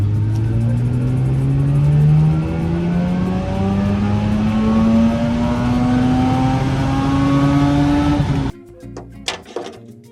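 A Mazda RX8 driving, its rotary engine droning loudly up through the gears in rising sweeps heard from inside the car, then dropping to a quieter idle near the end with a few knocks.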